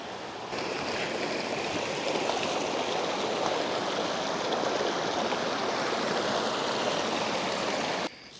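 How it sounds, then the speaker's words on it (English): A mountain river rushes past at a high-altitude crossing near 11,000 feet, a loud, continuous broadband roar of flowing water that holds steady throughout with no voices. "We're at a river crossing."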